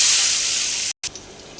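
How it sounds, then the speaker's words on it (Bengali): Black cumin, green chilli and onion hitting hot oil in a wok, a loud bright hissing sizzle that holds steady, breaks off for an instant, then resumes more quietly. "এবার কড়াইয়ে ফোড়ন দিয়ে দেবো কালো জিরে, কাঁচা লঙ্কা আর পেঁয়াজ।"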